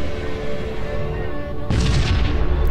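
Missile explosions in the space strategy game Sunrider: First Arrival, a low rumbling barrage with a sharp, louder burst of booms near the end over continuous background music.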